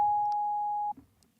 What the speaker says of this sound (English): Get a sine wave going.